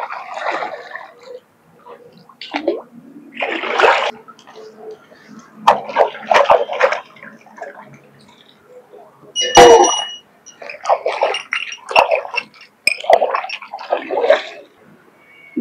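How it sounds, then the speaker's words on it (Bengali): Brass utensils being washed by hand in pond water outdoors, with intermittent splashing, scrubbing and metallic clinks in irregular bursts, fairly close. "আর এই পুকুরের জলে ভালো করে কিন্তু বাসনটা ধোয়া হয়"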